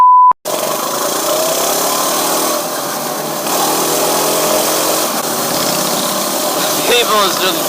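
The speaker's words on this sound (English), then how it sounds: "Rev my piece of engine up." A minibike's small engine drones steadily throughout, close and loud, with a buzzy high-pitched whine typical of a light motor, ridden on the way to a large motorcycle meet.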